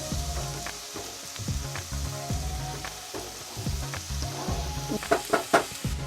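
Beef cutlet mixture with onion frying in a pan while it is stirred, a loud continuous sizzle broken by rhythmic scraping and clattering strokes that grow sharper toward the end.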